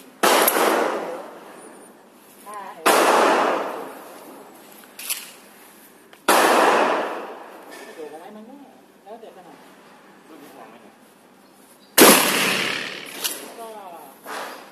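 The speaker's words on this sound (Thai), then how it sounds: "ทีนี้จะยิงไปที่เป้า" A shotgun fired at a target 20 metres away, four loud sharp blasts spaced several seconds apart, each ringing out with a long decaying echo, with someone speaking between shots.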